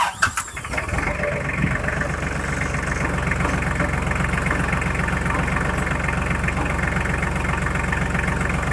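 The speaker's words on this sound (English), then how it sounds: "tractor's got to back up a little." A tractor engine idles steadily and close by with a low, even rumble, holding through the whole stretch after a brief uneven start as the machine backs up slowly.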